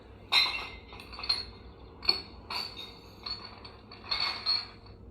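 Tea glasses clink together in a series of bright, close taps and rattles, several small clusters spread over a few seconds with quiet gaps between, as one round of a guess-the-sound game.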